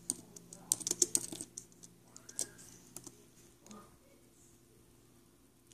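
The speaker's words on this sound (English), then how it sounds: "I'm going to try to type it in as fast as I can," Keys on a computer keyboard tapped in quick bursts, loudest in the first second and a half and then thinning to scattered clicks, close and fairly quiet over a low steady hum.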